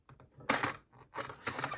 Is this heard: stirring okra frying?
no